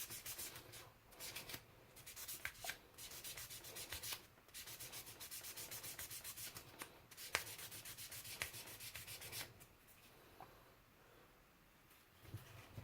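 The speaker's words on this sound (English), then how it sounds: "I'm going to sand it more, a little bit more on the side." Hand sanding on the corner of a part, a steady abrasive rubbing that runs continuously in close strokes with brief pauses, loud and near with no talk.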